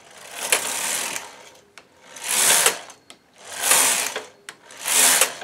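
A knitting machine carriage is pushed across the needle bed in four sweeping passes, each a rising and falling mechanical whirr, separated by sharp clicks at the row ends.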